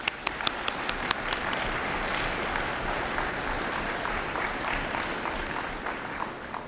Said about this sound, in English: So let's give a round of applause for all of those people who supported you.